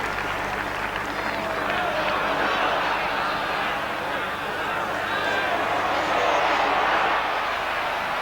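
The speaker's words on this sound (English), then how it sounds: "Crowd urging him on." A packed home football crowd at a late-1970s West Ham United match sends up a steady, dense roar urging on a player. The noise is continuous and fairly loud, with a constant broad wash of voices and no single standout shout.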